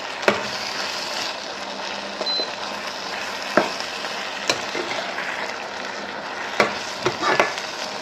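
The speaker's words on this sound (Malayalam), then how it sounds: "നമ്മളിനി നല്ലതായിട്ട് ഇതിനെ ഇളക്കി കൊടുക്കാം." Broccoli being stirred in a hot frying pan for a stir-fried broccoli salad, a steady sizzle with occasional sharp clicks of the spoon against the pan, close and without talking.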